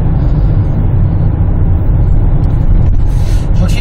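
A 2017 Hyundai Santa Fe DM on a test drive, fitted with two Tan D-type units on the intake throttle and turbo line, gives a steady, loud low cabin rumble of engine and road noise. A faint rattle comes near the end.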